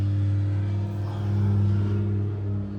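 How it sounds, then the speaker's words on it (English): A large V10 box truck engine idles with a deep, steady rumble and strong low drone, revving slightly in the middle before settling back. "that's a V10 box truck, in case you guys are wondering. It sounds like that."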